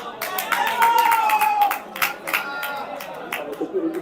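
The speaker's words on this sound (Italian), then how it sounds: "Fanno sentire i tifosi del Como" Como supporters clap and cheer at a youth football match, a scattered burst of applause and crowd noise from the stands, fading out after a couple of seconds.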